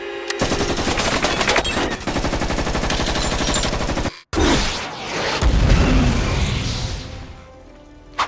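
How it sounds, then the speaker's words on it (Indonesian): Rapid machine-gun bursts from a remotely operated military robot in a film scene rattle loudly for several seconds, then after a brief cut give way to booming impacts and crashing debris that fade out. "seseorang mengendalikan robot militer untuk menembaki kendaraan mereka"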